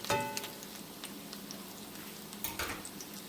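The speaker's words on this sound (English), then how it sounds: "You hear that? It's not too big of a sizzle." Soft, steady frying sizzle of salmon croquettes in a frying pan, with faint crackles and a couple of sharper pops, quiet and close, no voices.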